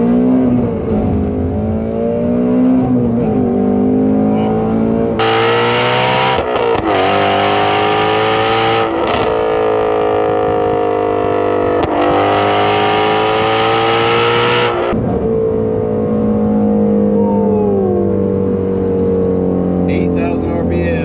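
A Shelby GT350R's engine revs hard toward 8,000 RPM, a loud, sustained, distorted roar with rising and falling harmonics and two higher-pitched peaks of acceleration, filling the clip from start to finish.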